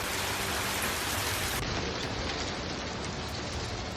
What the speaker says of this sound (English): Hail suddenly pours down on Sydney as thunderstorms sweep through, filling the streets with relentless pounding sounds.